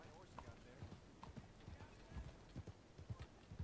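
A horse's hooves clip-clop in a video game, a steady run of hoofbeats at an easy walking pace, quiet and continuous for several seconds with faint talking mixed in.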